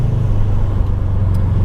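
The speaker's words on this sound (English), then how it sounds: "That flat 4 boxer engine does actually sound really good as well." The flat-four boxer engine of a Subaru WRX STI gives a steady, loud low rumble close by, with no voices over it.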